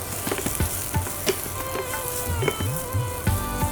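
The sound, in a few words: okra frying in hot oil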